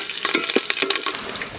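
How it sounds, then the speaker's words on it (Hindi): Cumin and chili crackle and sizzle in hot mustard oil in a cooking pot, with sharp irregular pops and a steady frying hiss close by. "जीरा और मिर्चा का हम तड़का देंगे।"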